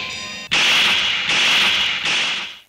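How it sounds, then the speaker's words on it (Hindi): A slap sound effect in a Hindi-Urdu TV news headline, delivered as loud, sharp whip-like cracks. One cracks abruptly, then two more follow with a long, bright, hissing tail, close and dominant with no voice over them. "इस थप्पड़ की गूंज सुनी तुमने?"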